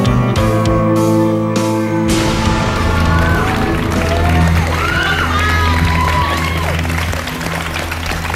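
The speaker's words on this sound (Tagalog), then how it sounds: "Ang lakas ng sigawan ng studio audience natin, pati sila dito affected." A studio audience at a Filipino TV program screams loudly in a sustained, dense crowd roar, layered over steady musical tones and continuing without a break.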